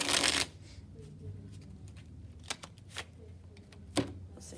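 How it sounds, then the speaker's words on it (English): A deck of playing cards being shuffled during a tabletop game of Trash, with a loud riffle burst at the start and a few sharp card snaps and taps following, close up with no talking. "I hope that's good shuffle"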